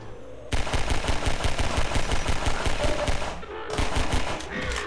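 Rapid automatic gunfire in the video game Half-Life 2 Episode One, a loud, evenly spaced burst of shots that stops briefly near the end before a final stretch of firing.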